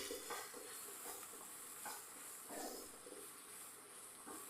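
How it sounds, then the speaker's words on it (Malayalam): Soft sizzling of grated coconut sautéing in ghee in a pan, with repeated scraping strokes of a spoon stirring, fairly quiet and close, no voices. "എല്ലാം കൂടെ നമുക്ക് നെയ്യിലൊന്ന് വഴറ്റിയെടുക്കാം"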